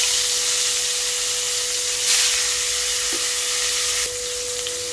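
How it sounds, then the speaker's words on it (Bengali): Rohu fish pieces fry in hot oil with a steady broad sizzle and hiss, close and loud, no talking. "তেলটা গরম হয়ে গিয়েছে, এবার আমি মাছগুলো দিয়ে দিচ্ছি।"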